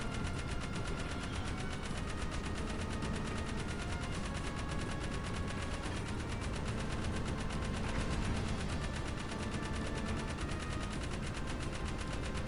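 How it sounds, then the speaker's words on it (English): Rapid continuous machine-gun fire from a vehicle in the Jak 3 video game, a dense unbroken rattle of shots that stays loud and steady for the whole stretch, with engine noise underneath and no talking. "Probably the only vehicle in this entire game that can actually shoot behind you"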